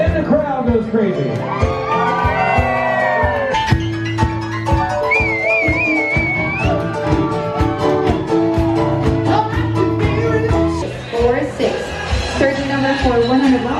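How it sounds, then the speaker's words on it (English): A crowd at a cruise event cheers, whoops and shouts loudly and continuously, with whistles and voices over music, the noise sustained and dense throughout. "And the crowd goes crazy."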